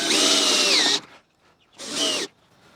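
A power drill drives screws into a wooden build in two bursts, the first a long whine that dips in pitch as the screw seats, a short pause, then a second briefer burst, loud and close.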